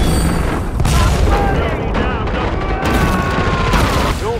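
Gunfire and heavy booms from the video game Killing Floor 2 crack out in rapid, dense bursts, loud and close, with a character's voice speaking over the shooting.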